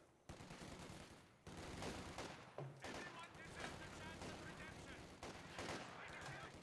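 Gunfire from a Soviet marksman unit in the real-time strategy game Company of Heroes 2, dense battle noise and repeated shots throughout, with a voice talking over it.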